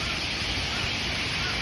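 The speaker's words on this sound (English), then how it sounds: "the river is really, really beautiful, and the waterfall is really nice, but just" A river rushes toward a nearby waterfall, giving a constant broadband roar that is loud and unbroken across the short clip, with no distinct events standing out.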